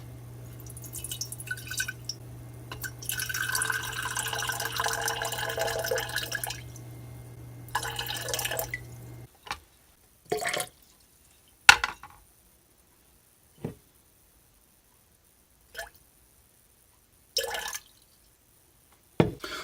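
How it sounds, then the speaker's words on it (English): A steady rush of running water from a tap for several seconds, then silence broken by a few scattered drips and small knocks. "I'm going to use my tap water."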